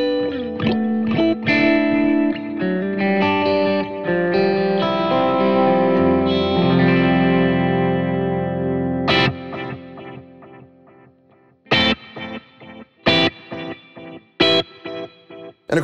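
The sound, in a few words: guitar with dotted eighth delay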